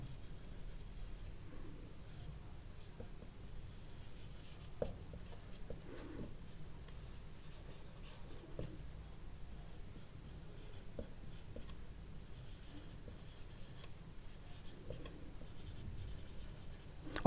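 Chalk writing on a classroom blackboard during a class 10 science lesson: faint, steady scratching and tapping strokes over a constant background hiss, with no talking.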